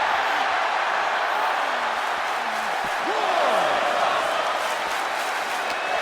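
A video game arena crowd cheers loudly and steadily during a WWE 2K23 wrestling match, a broad roar with rising swells and no commentary over it.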